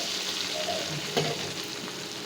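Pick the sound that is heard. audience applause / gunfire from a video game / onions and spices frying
onions and spices frying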